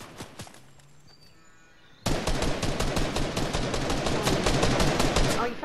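Gunfire in the Fortnite video game: after two seconds of quieter ambience, a sustained burst of rapid automatic shots erupts and continues loudly to the end.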